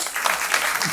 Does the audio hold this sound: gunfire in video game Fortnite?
no